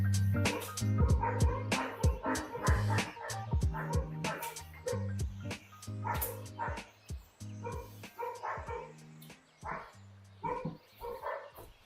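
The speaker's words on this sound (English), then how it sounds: "The dogs are barking hard here." Several dogs bark hard and repeatedly close by, with sharp yips and a few whimpers in an irregular, busy rhythm that fills the whole stretch.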